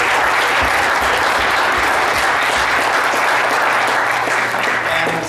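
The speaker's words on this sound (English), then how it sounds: "I think we owe him a big round of applause." An audience at a community assembly panel applauding, a dense, loud, sustained wash of clapping that holds steady for several seconds and fades slightly at the end.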